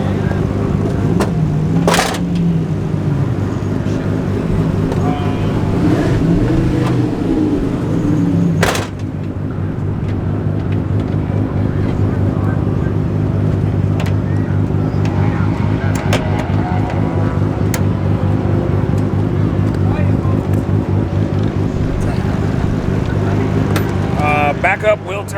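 A car at the Velocity Invitational is slowly maneuvered with a steady engine drone throughout, plus a couple of sharp knocks early on and voices talking over it.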